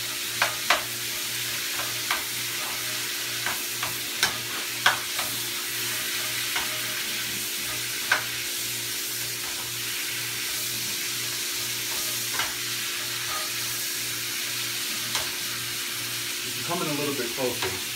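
Chopped tomato sizzles in a hot pan with asparagus, a steady close frying hiss under a low hum, punctuated by scattered clicks and scrapes of stirring, with no one talking.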